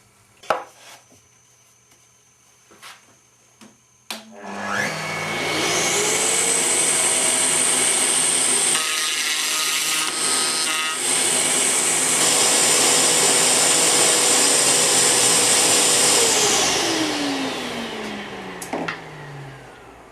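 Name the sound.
router table cutting finger joint with mortising bit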